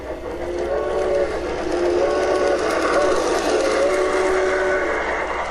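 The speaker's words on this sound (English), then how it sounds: "Here comes a steam engine." A G-gauge model steam locomotive on an outdoor garden railroad in Arizona sounds its whistle in several repeated toots, fairly loud over a steady rumbling background of the running train.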